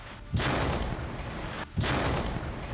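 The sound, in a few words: Israeli air strike explosion destroying weapons depot building in Jenin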